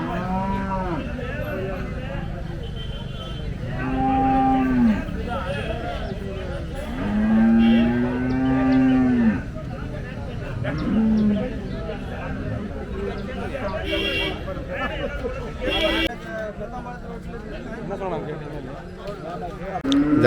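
Large cattle at a cattle market moo several times, with long, loud, drawn-out calls over a steady background of crowd chatter and people talking nearby.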